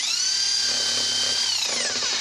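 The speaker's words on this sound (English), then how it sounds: "we got our heavy duty Hitachi drill" Heavy-duty Hitachi hammer drill spinning a wire brush in reverse, a steady high whine that holds loud and close, then winds down at the end.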